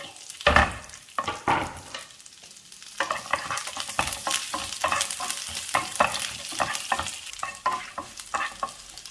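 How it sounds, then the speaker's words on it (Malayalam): Mustard seeds, curry leaves, red chili and chopped garlic sizzle in hot coconut oil for an agathi flower thoran, a steady close crackle broken by repeated scraping stir strokes, with no voices. "ചൂടായി വെളിച്ചെണ്ണയിലേക്ക് കടുക് ചേർക്കാം. കടുക് പൊട്ടി അതിലേക്ക് കുറച്ച് കറിവേപ്പില, ചുവന്ന മുളക്, അരിഞ്ഞു വെച്ചിരിക്കുന്ന വെളുത്തുള്ളി"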